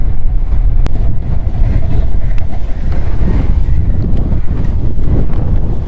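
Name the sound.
strong wind blowing during a motorcycle ride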